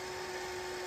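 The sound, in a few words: VHS tape rewinding in player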